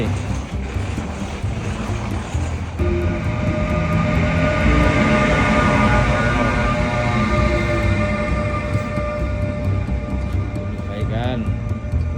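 A loud, continuous rumbling roar with rhythmic clacking and squealing metal, a train rolling steadily past nearby in South Korea.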